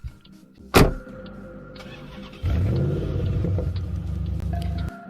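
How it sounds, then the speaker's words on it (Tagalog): A car door thuds shut, and then the engine starts and revs into a steady mid-pitched rumble that holds for a few seconds before cutting off. Heard as a sound effect in a horror story. "pinatakbo na ni Ella ang kotse, palayo sa kanilang bahay"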